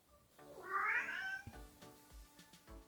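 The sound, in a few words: cat meowing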